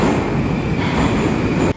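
A metro train in Baku rolls along toward Deniz Mall with a loud, steady rumble of wheels on rails, heard from inside the carriage and cutting off sharply at the very end.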